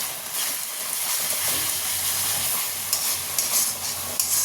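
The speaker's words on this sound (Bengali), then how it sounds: "চলো ভালো করে মশলাটাকে আগে কষিয়ে নেব।" Spices stir-fried in a pan for a vegetable curry sizzle steadily, with hissing steam and occasional scraping stirs close by and no talk.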